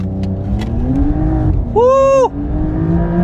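A 2020 Porsche 911 Carrera 4S (992) on the move, its engine holding a steady drone with a brief rising rev partway through, heard from inside the car.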